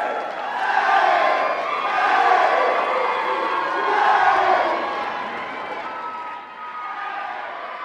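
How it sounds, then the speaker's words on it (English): A large audience at a Step Sing event applauds and cheers, loud and sustained, swelling in waves with shouts and whoops over the clapping before easing slightly near the end. "Let's give them all a round of applause."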